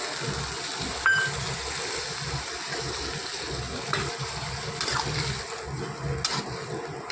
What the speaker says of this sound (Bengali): এখন আমি ঝোলের জন্য জল দিয়ে দেবো